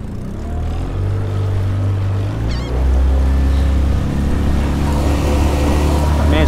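A skiff at full throttle on a 9-pitch prop climbs onto plane in choppy water and 14 mph wind, its outboard a loud steady drone that rises slightly in the second half alongside wind rush and hull slap.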